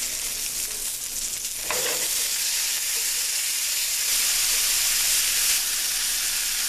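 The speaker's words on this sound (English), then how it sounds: "Let's go ahead and flip these over." Tuna steaks turned over in a hot pan give off a loud, close sizzle. A utensil scrape comes as they flip, and then a steady frying hiss carries on alone.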